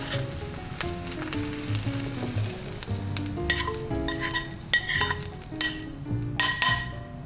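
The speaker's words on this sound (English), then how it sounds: "now I'm gonna add the onions with the oil" Onions frying in olive oil for lentil soup, a loud close sizzle with bursts of spatter and occasional clinks of a spoon against the pot; no talk.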